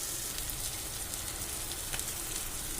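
Ginger garlic paste frying in hot oil for a fish curry, giving a steady, even sizzle that holds at one level throughout, with no talking.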